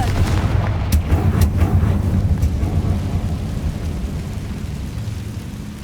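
Fiery blast from the Confringo spell in Hogwarts Legacy: a loud rumbling burst with sharp cracks early on, rolling into a dense, sustained low roar that slowly fades.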